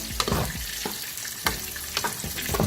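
Rice is stirred in a pot on the stove, with a soft continuous sizzle and a few sharp scrapes of the spoon against the pot at irregular intervals, heard up close.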